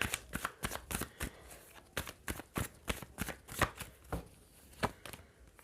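Tarot cards are shuffled and drawn up close, with a steady run of crisp riffling slaps and flicks, repeated quickly and evenly at moderate volume.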